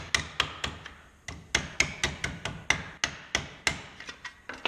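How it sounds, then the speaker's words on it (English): Metal tray tabs hammered down over a square stake in a workshop: a steady run of sharp, close hammer blows, about four per second with brief pauses, each strike ringing briefly. "I can hammer the tabs down."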